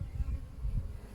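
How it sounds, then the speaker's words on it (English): Low, steady buzzing of bees drones close by at a hive, a soft continuous hum without other sounds. "bees landing with pollen on their legs"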